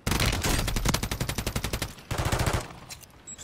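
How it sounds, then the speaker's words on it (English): Automatic rifle fire in Modern Warfare III Warzone, two rapid close bursts of evenly spaced shots, the first long and the second shorter, ending in a sharp tail. "I'm taking fire!"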